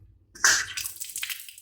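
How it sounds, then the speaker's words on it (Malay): Water gushes from a newly replaced tap, starting with a sudden splash and settling into a steady running flow at close range. "Okey, air dah buka dah."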